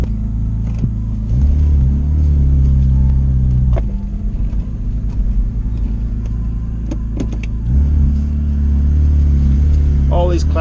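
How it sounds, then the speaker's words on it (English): Car engine idling and revving with a steady low rumble that swells in several surges, close up with doors open, alongside people chatting. "it is quite a noisy car"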